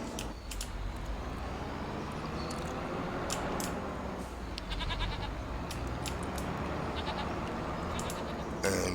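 Goats and cows bleating at a barn in the Farming Simulator 25 video game, repeated calls over a steady farm ambience, no talk.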